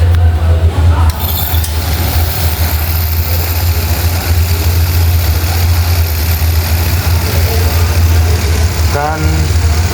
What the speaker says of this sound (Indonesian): Lalu hidupkan mesin AC dengan cara kunci kontak on, mesin hidup